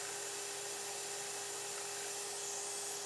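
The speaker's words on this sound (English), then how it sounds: "we'll go ahead and cut off those shoulders, making sure that we stay on the waist side of that scribe line" A scroll saw cuts off the shoulders of dovetail tails in wood, a steady high-pitched motorized whine that holds evenly and fairly loud throughout, with no voices.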